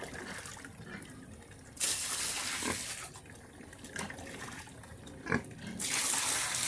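Water poured into a trough for pigs after feeding: splashing, gurgling flow in bursts that rise and fall, with faint background noise and no voices.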